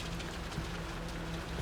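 Rain falls in a dense, even hiss across a broad band, a steady wash of drops with no gaps or voices, heard over open sea in a dramatic scene.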